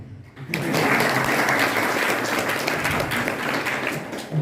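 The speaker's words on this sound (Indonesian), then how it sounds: "Biasanya tepuk tangan." Audience applause at a school Islamic holiday program's storytelling session, a steady broadband wash of many hands clapping that swells in after a brief quiet start and holds loud and continuous.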